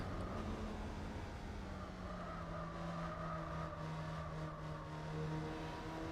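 A tiny British A-series engine in a K-car in Gran Turismo 4 runs continuously, its tone sliding slightly down and then holding at a sustained mid-rev drone, fairly loud and with no voices over it.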